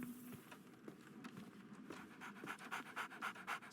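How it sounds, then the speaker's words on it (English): A dog pants rapidly and steadily in a quiet Baker Street room in the game Sherlock Holmes: The Awakened, the breaths close and growing slightly louder toward the end. "So, Barnes has a dog now."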